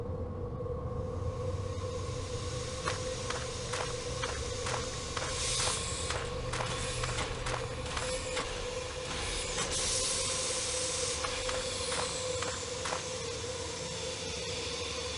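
A steam locomotive hauling the Orient Express runs with a steady, loud hiss of steam and a faint rhythmic chuffing beneath it, with no voices.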